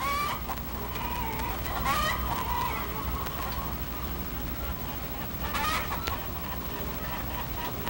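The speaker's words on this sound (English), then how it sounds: "There's the red hen" Barnyard red hen clucking and calling repeatedly at close range, a busy run of chicken sounds over constant background noise.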